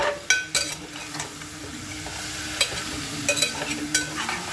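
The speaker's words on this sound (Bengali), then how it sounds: "আমি আরেকটু ভেজে নেব" Ginger and radhuni spice paste frying and being stirred in a pan, with steady close sizzling broken by repeated sharp scrapes and clinks of a utensil against the pan.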